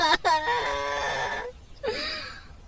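A woman wails and moans in anguish in a Hindi village horror tale, long sustained cries with a quivering pitch, a pause, then a fresh rising wail, close and loud with no other voices.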